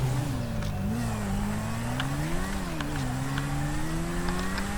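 A motorcycle engine in GTA V revs steadily, its exhaust note rising and falling in pitch under constant engine noise.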